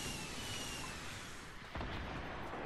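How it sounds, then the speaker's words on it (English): Gunshots and blasts in Fortnite, a dense wash of distant firing and rumble with a sharp, louder crack near the middle followed by continued low booming. "Is that you guys shooting?"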